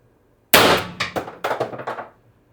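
A single IntruBuster G2 airgun shot powered through an Umarex 2x12g CO2 adapter, a sharp loud crack followed by a quick series of clanging, rattling echoes that fade within about a second and a half.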